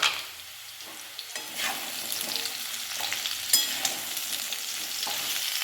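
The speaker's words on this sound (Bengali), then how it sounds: "ডাঁটাগুলো দিয়েও কিন্তু ভেজে নিতে হবে ভালো করে।" Drumstick stalks fry with potatoes in a pan, a steady close sizzle punctuated by several sharp stirring scrapes and clacks, with no voices.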